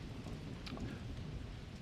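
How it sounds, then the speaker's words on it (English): Low thunder rumbles steadily beneath heavy rain during a storm while bass fishing, a faint, continuous wash with no voices. "As we hear more rumbling in the background, we are flooding pretty good here"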